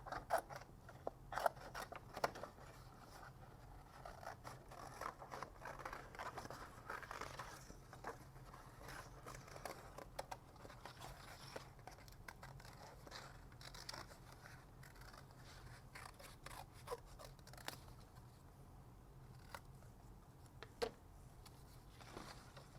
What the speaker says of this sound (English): Let's cut out a couple more hearts.